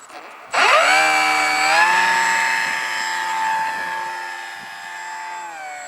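Small electric RC plane motor spins up sharply and holds a steady, close whining drone with rising harmonics as it taxis across snow, the pitch wavering slightly as throttle shifts.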